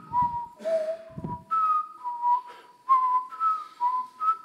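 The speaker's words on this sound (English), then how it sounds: "you could whistle the Jeopardy theme song." A person whistles the Jeopardy theme tune alone, a clear melodic line of short and held notes in a steady rhythm, close and fairly loud, with a few soft clicks and thumps underneath.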